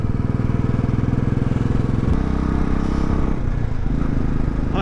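A motorcycle ridden at low speed, its engine a steady close rumble with rhythmic low thumping throughout, shifting slightly in tone partway through, plus faint clatter.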